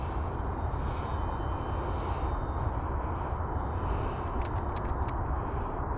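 Flybear FX-816 P38 Lightning, a small 430mm-wingspan EPP twin-motor RC airplane, flying with a steady droning buzz under heavy wind rumble, fairly faint and continuous.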